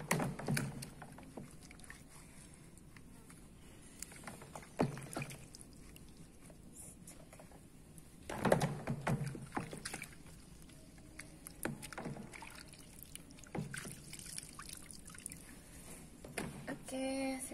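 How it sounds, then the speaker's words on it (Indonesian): Clothes being washed by hand in water, with splashing, sloshing and dripping bursts at irregular intervals close by, alongside faint voices in the background. "Bu Yohana yang mencuci menggunakan tangan"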